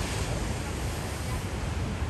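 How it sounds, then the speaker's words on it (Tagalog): Ocean waves at a San Francisco beach make a steady, even roar with no breaks, mixed with some wind buffeting the microphone. "May alon."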